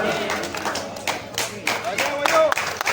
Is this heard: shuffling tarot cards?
no